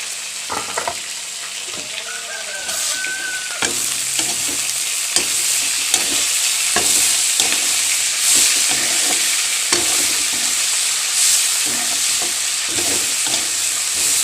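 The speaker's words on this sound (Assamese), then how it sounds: "এতিয়া মই এনেকৈ অকণমান সময় ভাজি ল'ম।" Vegetables with salt are stirred and fried in a pan for a Assamese dish cooked with lentils and fish head. The sizzle is steady and close, with repeated scraping stirs and clinks of the utensil and no talking.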